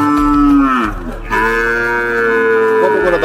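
A cow at a busy traditional cattle market gives a loud, close, deep moo, breaking briefly then resuming in a long sustained low call.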